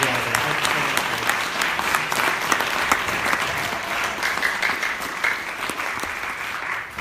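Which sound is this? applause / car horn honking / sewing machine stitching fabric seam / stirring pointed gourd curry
applause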